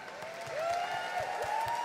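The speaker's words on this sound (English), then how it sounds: "Huge round of applause." An arena crowd at the Pokémon Europe International Championships 2025 applauds the Junior VG champion, with steady clapping that swells after a moment and holds, and some sliding tonal sounds running through it.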